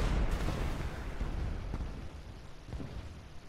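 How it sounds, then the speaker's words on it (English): In the War Thunder game, a Ki-21 bomber crashes kamikaze-style into artillery, bringing a loud, rumbling roar of explosions and heavy booms that stays dense and low throughout, with a few sharper blasts and no talking. "as I kamikaze into the artillery"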